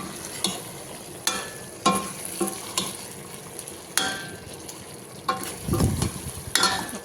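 Gongura chicken curry frying in a pan is stirred with a spoon that clanks against the metal every second or so, over a soft continuous sizzle with no talking.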